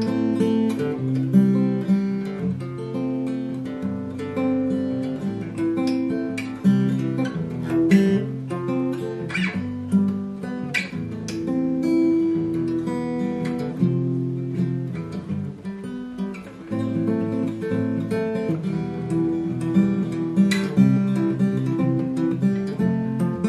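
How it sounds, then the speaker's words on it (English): Fingerstyle guitar is fingerpicked at a moderate pace with plucked notes and bass lines interleaved, clear and close, and plays alone for the whole stretch with no voices. "So with fingerstyle, your song will sound like this."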